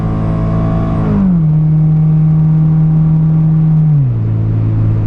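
A 1993 Honda Del Sol Si engine pulls under throttle in a loud, steady drone from inside the car, its pitch holding high before dropping with a gear change near the end; no talking.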